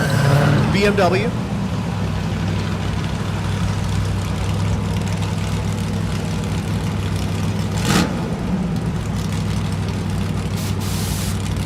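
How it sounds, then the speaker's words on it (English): A 55 wagon doing a drag racing burnout at a dragstrip, a loud sustained engine roar with tire noise that holds steady throughout, while an announcer speaks over it. "doing his burnout in the 55 wagon in the left lane"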